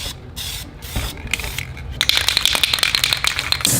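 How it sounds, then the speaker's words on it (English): A spray paint can spraying black paint onto a 3D printed iPhone 12 Pro replica in short hissing bursts, then one longer continuous spray with rattly crackle, close and fairly loud. "It's time to spray paint to bring it back to the black."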